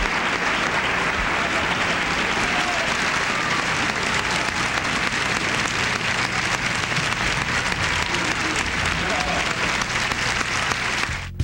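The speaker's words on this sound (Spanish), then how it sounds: "Muchas gracias por estos aplausos." Thick, continuous applause from an awards ceremony audience at the TVyNovelas awards, loud and unbroken for the whole stretch, with a faint voice now and then under the clapping.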